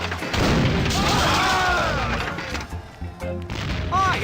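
A cannon fires in The Curse of Monkey Island, a loud booming blast at the start that rolls off over a couple of seconds, followed by quieter thuds and crashes.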